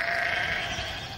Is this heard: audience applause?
no